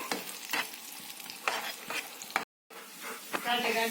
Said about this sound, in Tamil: எல்லாம் வதக்க வேண்டும்.